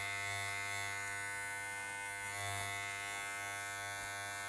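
An electric hair clipper hums steadily and close by, a constant buzzing drone with no pauses and no voices.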